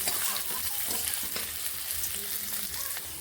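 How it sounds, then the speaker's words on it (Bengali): Close, busy sizzle of garlic frying in hot oil, with light stirring scrapes and crackles throughout. "রসুনগুলোকে ঠিক এইরকম লাল লাল করে আমি ভেজে নিলাম"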